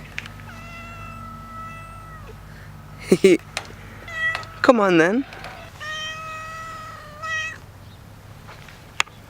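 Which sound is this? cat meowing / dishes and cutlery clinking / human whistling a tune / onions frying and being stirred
cat meowing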